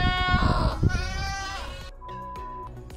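Lambs or goats bleating at a farm by a waterfront market, several wavering calls near and loud, one after another, with faint background noise.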